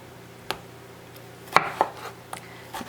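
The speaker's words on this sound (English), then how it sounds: "chopped green tomatoes, which I have been chopping up down here" A kitchen knife chopping green tomatoes on a cutting board for canning salsa, a handful of sparse, quiet knocks spread over a few seconds with no voices.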